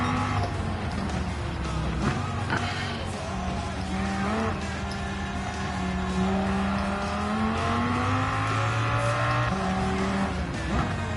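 Daihatsu Copen racing in Gran Turismo 7 alongside other cars, engines droning and shifting pitch as they rev and accelerate, with occasional tire squeal over a steady track roar.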